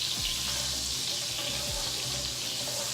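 Butter melting into olive oil in a hot pan gives a steady, dense sizzle and crackle, close and continuous with no voice over it.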